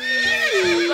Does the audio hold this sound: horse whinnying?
yes